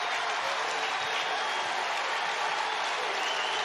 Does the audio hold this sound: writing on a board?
no